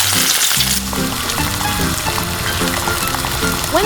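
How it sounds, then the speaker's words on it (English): Onions and garlic sizzle in hot cooking oil in a miniature pan, a bright steady frying crackle with stirring scrapes and clinks throughout. "Heat a pan with cooking oil. Add onions and garlic to the pan. Stir until fragrant."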